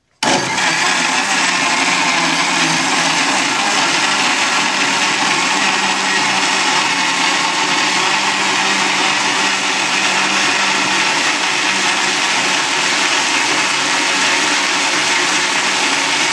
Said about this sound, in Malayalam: ഇനി അതും കൂടി ഇട്ട് അടിച്ചെടുക്കാം